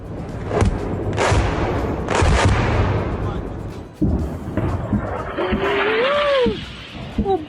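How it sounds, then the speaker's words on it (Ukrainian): Several loud, deep booms from powerful explosions in quick succession in Belgorod Oblast, with rumbling in between, followed by excited voices and a whistling tone near the end. "Після цього у Білгородській області пролунали потужні вибухи."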